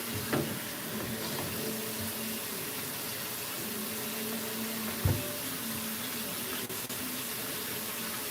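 Warm water runs steadily from a tap into a sink or tub for a Maine Coon cat's grooming bath, a faint continuous rush with a couple of soft knocks and no talking.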